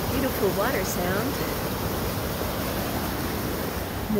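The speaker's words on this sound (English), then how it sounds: "Big culvert making a beautiful water sound." Water rushing steadily through a big culvert at an off-grid homestead, a continuous broadband roar heard up close throughout, with a voice briefly talking over it early on.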